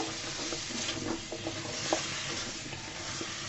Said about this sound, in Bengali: দিয়ে সুন্দর করে আমি নেড়ে চেড়ে কষিয়ে নিব